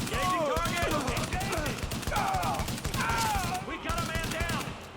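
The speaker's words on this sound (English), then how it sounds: "Shooting." Bursts of rapid automatic gunfire in a video game crackle across the whole stretch, loud and dense, with a voice talking over the shots.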